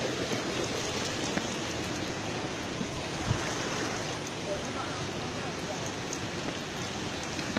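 A stream's flowing water rushes and splashes in a continuous, fairly quiet wash, with small irregular spatters scattered through it and voices faintly present.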